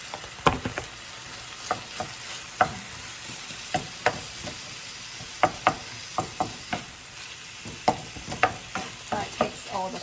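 Beef frying in a pan while a utensil stirs it, sharp knocks and scrapes repeating at an irregular pace over a continuous close sizzle, no talking.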